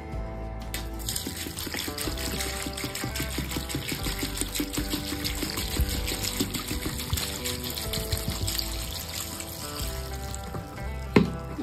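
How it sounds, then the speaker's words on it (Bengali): Water pours steadily into a karahi holding 400 grams of dry pasta. The close, continuous splashing gurgle runs throughout and ends with a brief clatter. "দিয়ে এখানে পানি দিয়ে দেব।"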